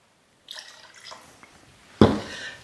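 Tanqueray 10 dry gin is poured into a cocktail mixing glass for a Chartreuse martini, a soft trickle followed by a louder, brief splash of liquid near the end, with no talking.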